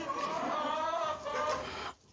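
Laying hens in a flock of about thirty-seven cluck repeatedly in a coop, their throaty calls overlapping steadily for nearly two seconds before cutting off into quiet.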